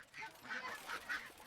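A goose or duck honks in a series of four or five faint, nasal calls, fairly even in spacing and close enough to hear clearly.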